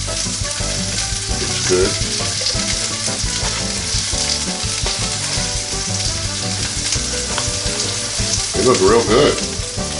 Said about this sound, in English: those pancakes are looking bubbly, so I'm gonna flip them